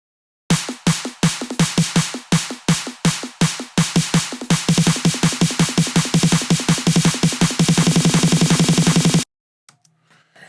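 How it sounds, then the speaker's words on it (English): A clap and snare pattern hits sharply and repeatedly, the strikes getting faster and denser into a rapid roll before stopping abruptly. "already you can hear with the clap, the short snare and the heavy snare"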